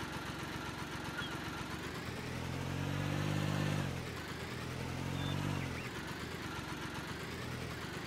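Vehicle engine in Farming Simulator 19, a steady droning hum that swells under load twice, rising and falling, with continuous mechanical noise throughout.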